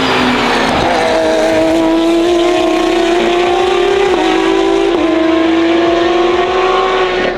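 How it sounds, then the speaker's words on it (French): A race car at the 24 Hours of Le Mans roars past close by, one loud sustained engine note that climbs and shifts pitch as it goes by, with a steady roar of other traffic beneath and no talk. "vous allez voir quand il y a une voiture qui va arriver"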